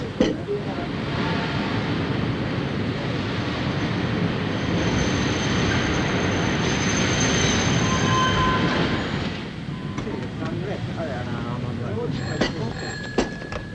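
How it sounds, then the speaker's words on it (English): A train rolls in with a loud, steady rumble and clatter of wheels, easing off toward the end as a faint high ringing sounds. "Train's coming in now."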